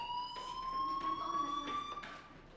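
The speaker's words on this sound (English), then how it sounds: "do you hear that fire alarm? That means you should be outside." School fire alarm in the video game Life is Strange, a continuous electronic tone with faint repeating pulses, fairly quiet and distant-sounding, playing alone.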